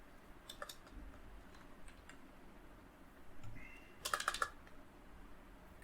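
Computer keyboard typing while searching for a profile icon in Android Studio, a short cluster of faint, quick key clicks around the middle of an otherwise quiet room tone.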